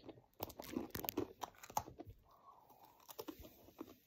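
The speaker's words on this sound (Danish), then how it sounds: "Isabella, hun skal spise riskiks." Someone crunches rice crackers up close, with sharp crackly bites and brittle snaps followed by softer chewing and faint rustling, no talking.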